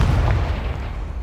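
A Confringo spell cast in the Hogwarts Legacy video game sets off one deep, booming explosion that rolls out loud and low, then fades over about a second.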